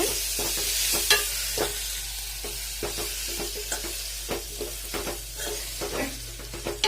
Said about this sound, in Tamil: நெய்த்தூள் கருவாட்டை உள்ளே போடுறோங்க. போட்டு நல்லா ஃப்ரை பண்ணுங்க.